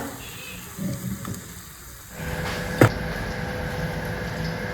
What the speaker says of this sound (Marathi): आता इथे आळूच्या वड्या फ्राय करते